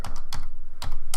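Keys clatter on a computer keyboard as a file name is typed, a few quick close clicks in two short bursts with a pause between.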